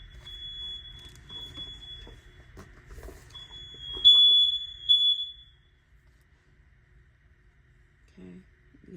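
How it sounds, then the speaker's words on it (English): An indoor smoke alarm sounds a steady, piercing high-pitched tone for about five seconds, growing louder partway through before it cuts off, with faint voices nearby. "the alarm, guys, the alarm"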